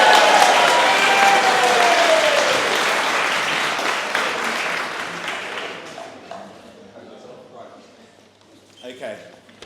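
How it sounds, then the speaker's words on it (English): Wedding guests applaud loudly during the reception speeches, a dense crowd clapping that gradually thins and fades over several seconds until only scattered claps and murmurs remain. "Big round of applause for Reuben,"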